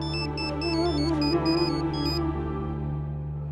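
A melodic phone ringtone chirps a repeating electronic pattern for a call from Bani, playing over a sustained musical backing that carries on after the ringing stops.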